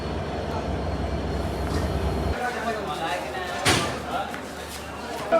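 The Kapotaksha Express on its Rajshahi to Khulna run rumbles at a platform just before departure, a steady low drone that drops off partway through, then a sharp clank of a carriage, with voices in the background.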